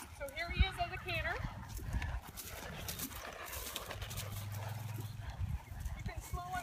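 A ridden horse cantering, its rhythmic hoofbeats drumming steadily and fairly close, with a dog barking and voices in the background.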